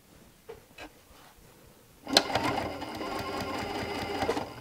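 A Janome Continental M7 sewing machine starts up after a couple of faint taps and stitches steadily at close range, its motor and needle whirring in a continuous mechanical run with no talk.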